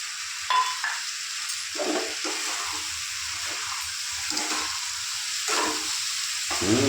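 Fried snails go into a hot pan for a chorchori with ridge gourd, potato and eggplant, giving a steady close sizzle with scraping stirs and brief clatters throughout.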